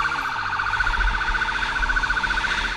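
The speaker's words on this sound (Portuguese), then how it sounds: "sirenes ligadas, os policiais abrem caminho" Police sirens wail loud and close, held steady and continuous with a low rumble beneath, during a motorcycle chase through busy São Paulo streets.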